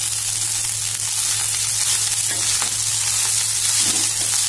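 Cooked rice being stir-fried with cumin in ghee and oil for restaurant-style jeera rice, a loud, continuous close sizzle with occasional stirring scrapes and a low steady hum underneath, no talk.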